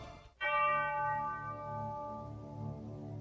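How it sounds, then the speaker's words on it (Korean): A church bell tolls to announce the dawn of St. John's Day in a Disney animated film scene, striking once with a sudden clang and then ringing on in a long, resonant hum. "밤이 가고 마침내 성 요한 축일이 시작되었음을 알리는 교회의 종소리였죠."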